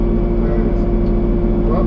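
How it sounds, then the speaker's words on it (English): A tractor engine idles steadily while warming up, a loud, close, constant low rumble with a droning harmonic hum and no change in pace. "Let the tractor warm up a little."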